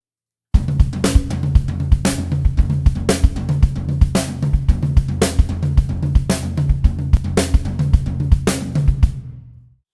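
A drum groove driven by tom hits, played at a steady moderate tempo, with a full kit pattern of strong, regular beats and recurring cymbal accents, close and loud with no talking.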